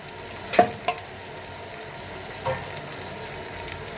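Raw fish frying in a pan on a home stove: a soft, steady sizzle close by, broken by a few brief louder crackles and spatters.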